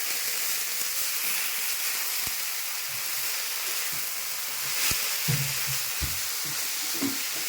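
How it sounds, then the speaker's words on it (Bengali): Leafy greens dropped into a pan of fried onions sizzle with a steady broad hiss, broken by occasional knocks and scrapes of stirring; no voices. "আমার পেঁয়াজ ভাজা হয়ে গেছে, এবার আমি শাকটা ছাড়লাম"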